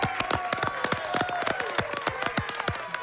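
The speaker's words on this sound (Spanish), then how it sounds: "Con un fuerte aplauso la recibimos." A studio audience claps for a girl drummer as she is welcomed on a television show, scattered sharp claps with a cheer or voice mixed in, steady and close.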